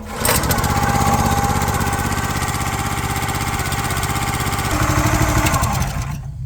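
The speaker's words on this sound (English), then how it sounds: "Next, start up the engine" A small gasoline engine on a log splitter starts and settles into a steady, loud idle, running close by with an even, continuous drone for several seconds before cutting off.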